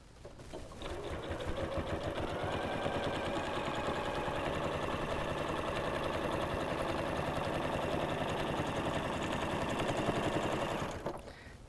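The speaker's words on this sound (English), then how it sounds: "So lay your fabric, sew your seam." Sewing machine stitching a seam through potholder fabric, a steady, continuous mechanical whir with rapid needle chatter running unbroken for about ten seconds, then stopping abruptly.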